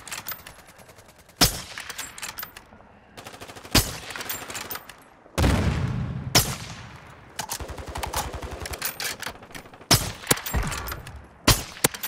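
Gunfire from a Call of Duty Warzone match on Ashika Island: repeated sharp single shots and short automatic bursts, some loud and close with echoing tails, scattered across the stretch with no talk over them.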